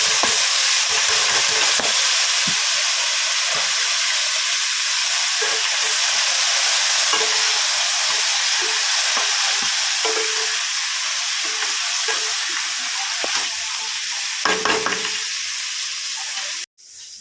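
Red amaranth greens stir-fried in a pan give a loud, steady sizzle and hiss up close, with occasional scrapes and clinks of the spatula, running unbroken until it stops abruptly at the end.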